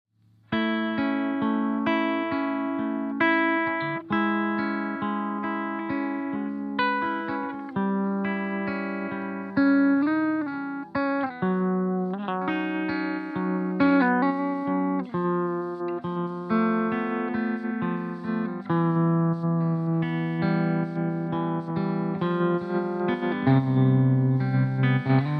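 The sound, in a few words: Stylus effects pedal with Degrade and distortion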